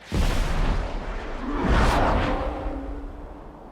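Missile launches and explosions in the combat flight game Ace Combat 7: a loud whooshing launch followed by rumbling booms and a sustained roar, with no talk over it.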